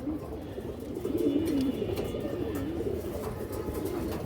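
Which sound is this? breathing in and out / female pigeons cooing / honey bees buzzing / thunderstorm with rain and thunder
female pigeons cooing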